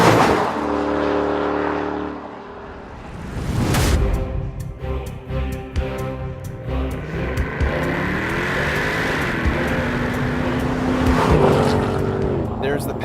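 A 2008 Mercedes-Benz CLK 63 AMG Black Series with a 6.2 litre engine accelerates hard, its loud revving roar climbing through gears with shift breaks, heard from inside the car.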